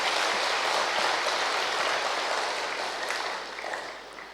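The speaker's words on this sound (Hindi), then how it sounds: "उन सब के प्रति जोर से ताली बजा करके अभिनंदन करें।" Loud, dense applause from a large audience at a prize distribution for marathon runners, a continuous wash of clapping that holds steady, then gradually fades toward the end.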